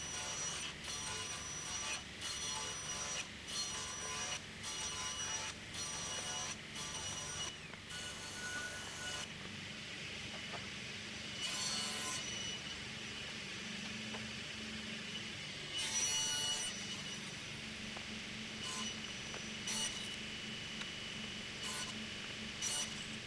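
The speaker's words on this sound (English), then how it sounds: "I cut birch plywood into 8 cm strips to make 3 rectangles" A power saw cuts birch plywood into 8 cm strips in a series of short bursts, then longer gaps with quieter workshop handling noises and occasional further cuts.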